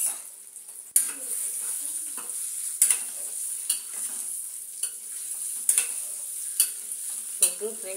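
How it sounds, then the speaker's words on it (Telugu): An egg frying in a pan gives a steady close sizzle, broken by occasional scraping and clinking of a spatula or utensil against the pan. "గుడ్డు ఫ్రై చేస్తుంది."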